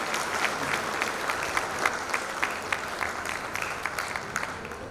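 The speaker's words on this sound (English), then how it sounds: "Can you give a bigger round of applause to yourself?" Audience applause fills a motivational talk hall in Mumbai, a steady dense wash of clapping with scattered louder individual claps, moderately loud and continuous throughout with no voice over it.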